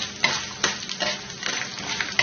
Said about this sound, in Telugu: అలాగే మినప్పప్పు, ఆవాలు వేసి ఫ్రై చేసుకోవాలి.